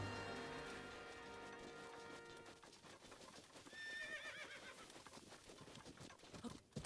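A horse in a video game whinnies with a long neigh early on, followed by rapid clip-clop hoofbeats against busy game music and effects, loud and up close.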